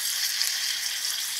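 Curry powder fries and scorches in a pot, giving a steady, close hiss of sizzling oil with no voice.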